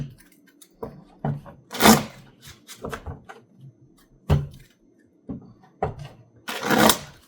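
Tarot cards shuffled by hand in a series of short, crisp riffling bursts separated by quiet pauses, close and fairly loud.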